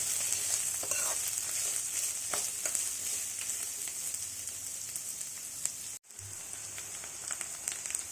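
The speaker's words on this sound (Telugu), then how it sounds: "ఇవన్నీ గోల్డ్ కలర్ వచ్చే వరకు బాగా ఫ్రై చేసుకోవాలి." Onion pieces and other ingredients for a ridge gourd curry fry in oil until golden, making a continuous close sizzle with scattered crackles and a brief drop in the sound near the end.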